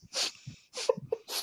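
Several sharp human sneezes in quick succession, close and loud, with snorting breaths between them.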